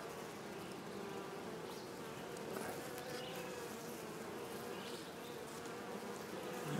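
A steady, dense drone of honey bees buzzes continuously at an open hive during a transfer from a nuc into a 10-frame hive, close and unbroken, with no talking.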